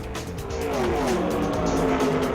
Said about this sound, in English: When the throttle is flat out in one of these machines, the engine is sucking air like a jet turbine